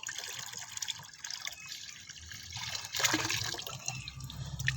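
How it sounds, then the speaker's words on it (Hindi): Ten litres of water poured from a bucket into a liquid fertilizer mix for aloe vera plants, a steady splashing, gurgling pour close by that swells louder near the end, with no talking. "ये वाला पानी अब हम इसमें ऐड कर लेंगे"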